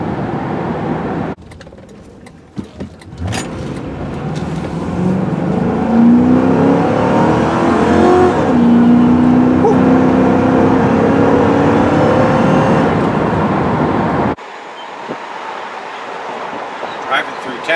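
A 2009 Ford Crown Victoria P71 police interceptor drives through town over a bumpy road, its engine droning steadily with a rising and falling tone under loud road and wind noise before the sound drops away.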